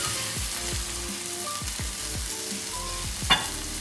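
Hake fillets pan-frying in oil, a constant close sizzle and crackle with small pops and scrapes, no voices.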